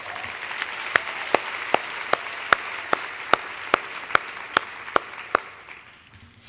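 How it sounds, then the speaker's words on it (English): Audience claps for a keynote speaker at the 2018 National Arts Marketing Project Conference, heard as a steady run of evenly spaced, crisp claps that taper off toward the end. "One more round of applause for Ijeoma."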